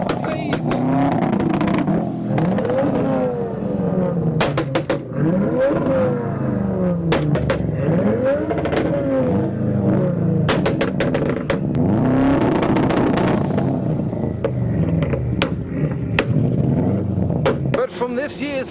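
A modified car with an unusual aftermarket exhaust revs repeatedly at the Ford Fair car show, loud rising and falling engine notes with sharp pops and crackles, people talking over it throughout.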